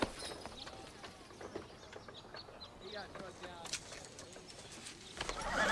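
Horses in a Western film scene are heard faintly: soft hoof clip-clops and a quiet whinny in an outdoor setting, with birds and some talk nearby.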